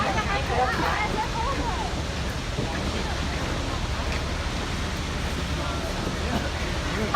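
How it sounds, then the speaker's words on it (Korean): Stirling Falls at Milford Sound, a 155-metre glacier-fed waterfall, pours in a continuous broad roar heard from a cruise boat nearby, steady throughout with wind and spray noise mixed in. "那瀑布现在在我们眼前落差155米，它的水呢是由冰川融化而来。"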